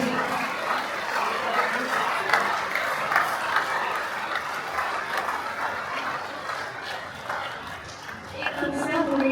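An audience at a prize-giving ceremony applauds the winning artist with sustained, even clapping of moderate loudness that dips slightly near the end while voices carry on underneath.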